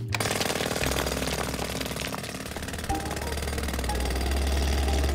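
A jackhammer, or pneumatic drill, pounds away in a Bob the Builder cartoon. A loud, dense, continuous rattling hammer runs through the whole stretch with a low engine rumble underneath and no talk.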